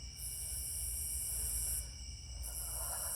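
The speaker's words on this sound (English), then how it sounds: "You hear grasshoppers" Insects trill steadily at night outdoors, a continuous high-pitched stridulation with a brief lull near the middle before resuming, sounding moderately close over a low background rumble.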